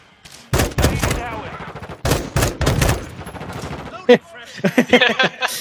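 Gunfire on a shooting range in the video game Call of Duty: Modern Warfare II comes as a few loud bursts of rapid shots early on, followed by a voice talking.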